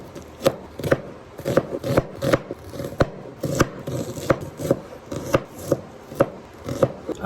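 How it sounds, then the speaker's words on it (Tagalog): An onion being chopped with a knife on a chopping board: a steady run of crisp, close knocks, about two to three per second, with no one talking. "mag-cut muna tayo ng onion and garlic"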